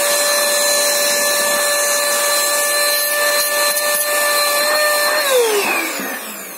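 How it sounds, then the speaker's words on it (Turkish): A 500-watt vacuum cleaner motor in a pipe-style stick vacuum, running with a loud, steady high whine close by, then spinning down as the pitch drops at the end; no one speaks. "normal bir dik süpürgeye göre 500 wattlık bir süpürge motoru"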